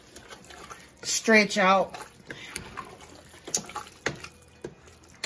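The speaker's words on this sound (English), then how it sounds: "I'm just adding me a cup of water to my meat mixture" Water is poured from a cup into a ground beef mixture in a home kitchen, giving a brief liquid splash and trickle with a few drips after, while someone talks over it.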